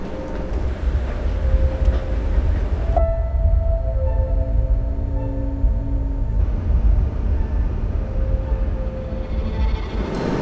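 Train standing in a railway station during the quarantine period: a loud low rumble with a sustained tonal hum, the noise dropping abruptly for a few seconds in the middle before the heavy rumbling returns, with no talking.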